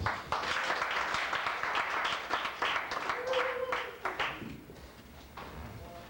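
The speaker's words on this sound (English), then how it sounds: "The immediate gratification players, please a warm round of applause." Warm applause from a club audience for the Immediate Gratification Players improv troupe, a busy burst of clapping that fades over several seconds while voices and murmured talk rise beneath it.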